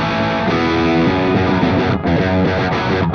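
A PRS electric guitar played through light distortion on the bridge pickup rings out loud and full, with sustained chords and notes filling the whole stretch without a break.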